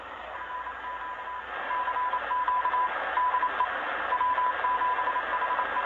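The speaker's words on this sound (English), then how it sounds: "So the bottom part is often Morse code." A Morse code CQ call on the 20 meter amateur radio band beeps as a clear tone in irregular dots and dashes over steady radio hiss, fairly faint.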